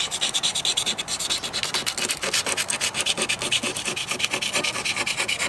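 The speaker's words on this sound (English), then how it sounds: "So this is 120 grit sandpaper, and I'm just going to go back and forward at 90 degrees to the scratch." 120 grit sandpaper is rubbed back and forth across a scratch on a boat hull, making a steady, close, rhythmic rasping scrape with quick regular strokes throughout and no voices.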